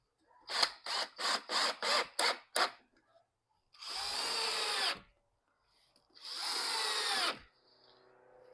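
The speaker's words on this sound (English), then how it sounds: "I'm gonna just put a couple drywall screws just to hold that board" A power drill drives drywall screws into a board on a door in an old mobile home: six quick trigger bursts in a row, then two longer sustained whirring runs with pauses between, close and loud.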